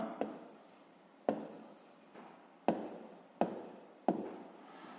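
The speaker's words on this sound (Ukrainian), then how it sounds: "Тоді записуємо третє і пишемо" A pen scratches across paper while a fifth-grade maths exercise is written out, in five quiet, close strokes of varying length, each starting with a sharp tap and trailing off, with no speech.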